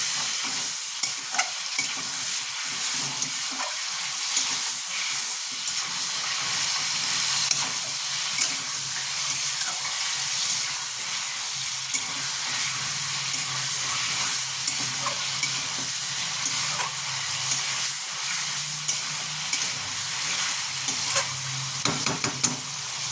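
Ginger and garlic fry in a pan for a chicken stew, a steady close sizzle with light hissing steam and occasional scraping stirs, running continuously without talk.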